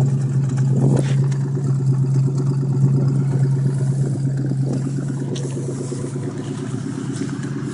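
An AMC Hornet car engine runs steadily at idle with a low, even drone, a couple of brief revs rising near the start and middle.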